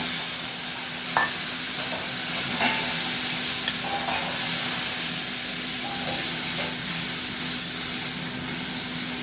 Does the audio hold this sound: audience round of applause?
no